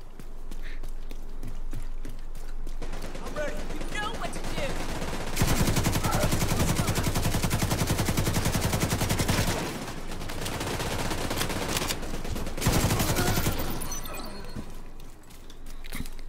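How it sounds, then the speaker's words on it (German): Rapid bursts of automatic gunfire crackle through a street firefight in The Division 2, set in Washington, with dense sustained volleys in the middle stretch and again near the end, amid game ambience. "Wieder geschossen auf offener Straße."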